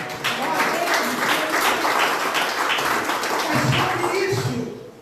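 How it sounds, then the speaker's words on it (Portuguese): Church congregation claps together, a steady full wash of applause lasting several seconds with some voices mixed in before it tapers off at the end. "Dá uma salva de palmas."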